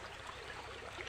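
Water rushes and rises along a blocked channel where fish are caught, a continuous close burbling stream with no break and no voices.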